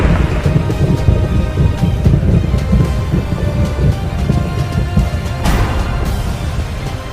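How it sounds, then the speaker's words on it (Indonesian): Heavy rain falls steadily while loud thunder rumbles and cracks, a sharp clap standing out near the end. "Ini cuma petir."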